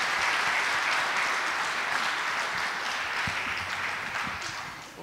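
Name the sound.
audience applause for Sunday school teachers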